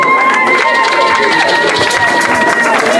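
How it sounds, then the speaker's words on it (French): A church congregation cheering and praising the Lord. Loud, dense crowd noise with shouting voices and sustained acclamation runs continuously, with steady high tones mixed through it. "Acclamons très fort le Seigneur."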